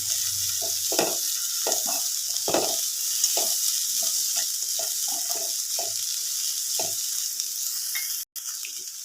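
Chopped onion, ginger and garlic sautéing in a pan for a breakfast curry, a steady loud sizzle with repeated scraping stirs of a spoon, alone without talk.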